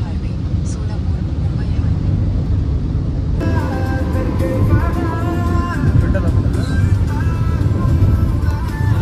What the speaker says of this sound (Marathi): काय ट्रॅफिक काय